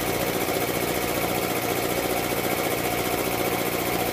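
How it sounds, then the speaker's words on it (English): An air compressor running with a clack in one cylinder, a loud, dense, steady mechanical drone with fast rhythmic knocking, close and continuous. "It's got a clack in one of the cylinders."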